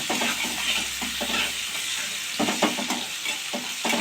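Garlic and chopped green chillies frying in a pan with salt while being stirred, a steady bright sizzle with scraping bursts of the spatula toward the end, no voices.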